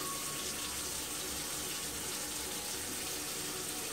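Tap water runs steadily over Rapidograph technical pens as they are rinsed clean of cleaning solution: a continuous, even hiss and splash with no pauses.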